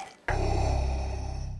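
A dog in a Super Bowl TV commercial starts growling abruptly after a brief quiet moment, a sustained, throaty rumble with a rapid pulsing texture, loud and close.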